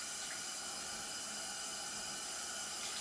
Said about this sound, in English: I'm gonna rinse with tepid water, get all of that out.